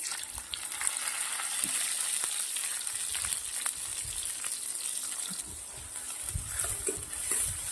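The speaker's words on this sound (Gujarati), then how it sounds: "ડુંગળી ટામેટા સરસ મજાના શેકી દેવાના છે" Onion, ginger, garlic and tomato fry in hot oil for an Indian dal bhaji masala, giving a steady close sizzle with occasional soft stirring clatter throughout and no talking.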